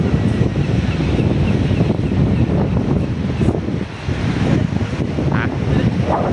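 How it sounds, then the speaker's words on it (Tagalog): Strong wind roars and buffets the microphone continuously, with a rushing, surf-like texture and brief gusts. "Ang hangin."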